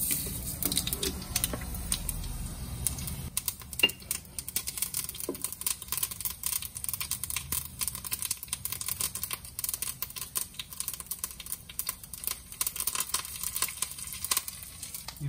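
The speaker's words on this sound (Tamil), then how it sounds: "அதே மாதிரி இதுலயும் நம்ம கடுகு கொஞ்சம், சீரகம் கொஞ்சம், கருவேப்பிலை, இது 3த்தையும் போட்டு தாளிச்சு இதுல கொட்ட போறோம்" Mustard seeds, cumin and curry leaves tempering in ghee for Mysore rasam, a soft continuous sizzle with scattered small pops and crackles, faint and steady throughout.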